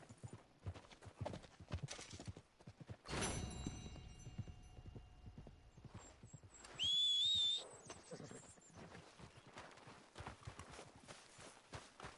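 Horse hooves clip-clopping in the Red Dead Redemption 2 video game, a quiet, steady rhythm of hoofbeats with a short whistle and a brief high tone partway through.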